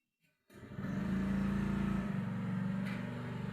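An electric motor on a new-model cotton waste machine starts up after near silence, then settles into a steady droning hum with a constant tonal whine, running in reverse at reduced RPM, close by with no talk.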